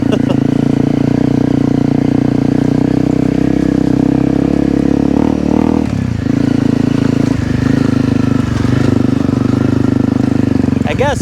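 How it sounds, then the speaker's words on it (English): A five-year-old Honda CRF250L fitted with an FMF exhaust pipe drones along at a steady, loud, close engine note, easing off and picking up again near the middle, while a rider talks over it. "But that FMF pipe is a little too noisy for my taste."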